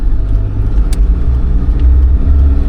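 Land Rover Defender cruising on a paved road, a steady low engine and tyre drone from inside the cabin, continuous and fairly loud.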